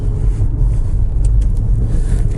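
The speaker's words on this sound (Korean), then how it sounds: "본격적인 주행을 한번 시작해 볼게요" A Maserati Levante GT hybrid SUV in sport mode gives a steady, loud, low rumble as it drives, heard close with no voices.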